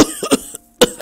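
A character coughs in Era of Change, a fantasy role-playing game: a few harsh, close, loud cough bursts in quick succession, then a short pause and one more cough, with no speech.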